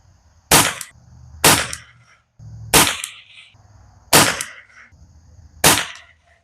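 A Springfield 2020 .22lr rifle firing Eley rimfire ammunition at a 50-yard range, five sharp, loud shots spaced about a second apart, each with a short ringing tail, and no talking.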